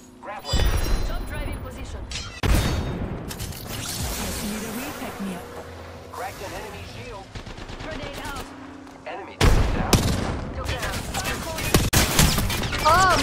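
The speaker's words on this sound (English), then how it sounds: "I am taking fire, friends." Gunfire in the video game Apex Legends crackles in loud bursts and rapid automatic volleys, with brief lulls between them. A player's voice is heard under the shooting.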